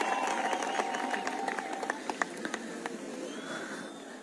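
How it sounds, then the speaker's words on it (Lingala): An audience claps steadily for a commander at a gathering, a dense patter of many hands with a few louder individual claps standing out, easing slightly toward the end. "Je vous prie d'applaudir pour lui."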